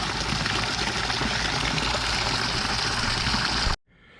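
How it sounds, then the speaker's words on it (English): A hot tub pump drives a heavy stream of water out of a hose in a steady, loud rushing gush that cuts off abruptly near the end, leaving faint trickling. "Check out the volume of water coming out of that hose."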